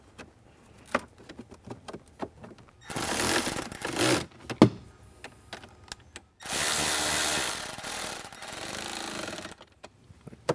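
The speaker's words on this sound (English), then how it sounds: "Now we'll just set that in and screw it into place." A power screwdriver runs in two loud whirring bursts while fixing an Alpine dash speaker into a Ford Bronco, with light clicks and handling noises between them.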